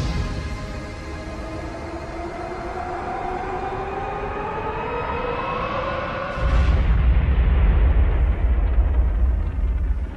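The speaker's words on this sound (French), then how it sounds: "le torpilleur allemand fait feu et atteint le paquebot par bâbord" A German torpedo boat's torpedo strikes the port side of the passenger liner Meknès at sea, a sudden deep booming blast bursting through a steady humming drone and leaving a loud, rumbling roar.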